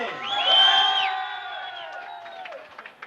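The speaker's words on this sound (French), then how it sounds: "Je ne sais pas si ce sont des sifflets de joie ou pas" Loud shrill whistles and whoops rise from a crowd, sliding up and down in pitch for a few seconds before fading.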